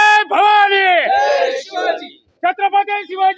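A Maratha community crowd celebrating victory in Dindori shouts and cheers loudly, a long drawn-out collective cry followed by a pause and then a burst of rhythmic shouted chanting, close to the listener.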